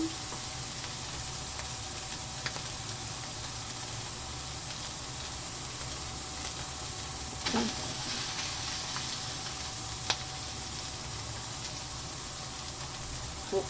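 Garlic sizzles steadily in hot cooking oil in a pan, a dense continuous crackle and hiss with occasional faint clinks of utensils, close and even throughout.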